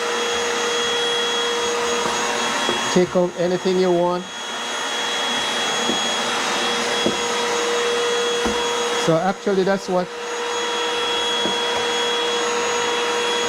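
A handheld vacuum gadget in a house being painted drones loudly and steadily through the whole stretch, with brief speech breaking in twice.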